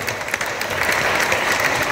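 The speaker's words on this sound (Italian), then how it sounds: "Un applauso." Sustained applause from a crowd, dense clapping that holds steady throughout.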